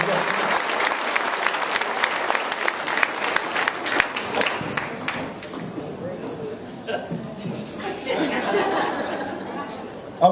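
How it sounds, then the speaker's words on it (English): A comedy roast crowd claps and cheers, loud dense applause at first that thins into scattered clapping, chatter and light laughter, with voices talking underneath toward the end. "Y'all give us some love. Start clapping right now."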